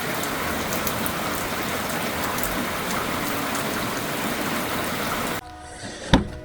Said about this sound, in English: Yeah, it's coming down really good.